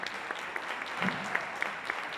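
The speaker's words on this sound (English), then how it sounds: "More applause for Jerry." Steady audience applause at an environmental awards celebration, a dense wash of many hands clapping at moderate level with a few sharper individual claps standing out, no one speaking over it.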